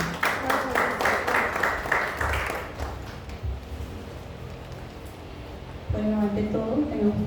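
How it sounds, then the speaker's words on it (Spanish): Audience at a book presentation breaking into a burst of applause, dense close clapping that fades after a few seconds, followed by a voice beginning to speak. "Un fuerte aplauso, por favor"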